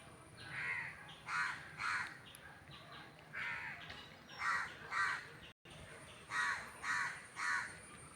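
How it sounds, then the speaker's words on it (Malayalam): A crow caws repeatedly in short bursts of two or three harsh calls, moderately distant, over a quiet outdoor background. "കാക്ക വിളിക്കുന്നുണ്ട് കേട്ടോ"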